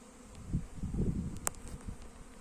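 Honeybee colonies on a winter cleansing flight around the hives, a steady outdoor buzzing hum of many bees in the air with a few louder passes close by.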